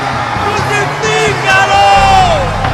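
A dense crowd shouts angrily in a steady, loud roar of many voices with rising yells, as in a dramatized Gospel scene of a mob crying out before Pilate.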